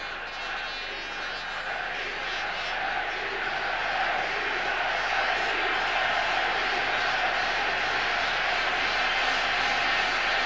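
A stadium crowd of Benfica fans at the 1988 European Cup Final against PSV starts chanting, a broad, steady roar of massed voices that carries throughout at a distance, with no clear individual words.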